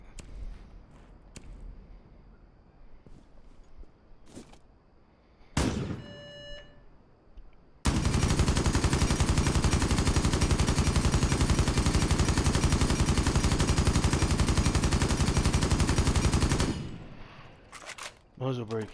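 Sustained automatic rifle fire with a muzzle brake in Rainbow Six Siege, a loud continuous burst lasting about nine seconds, preceded by a few scattered single shots and mechanical clicks.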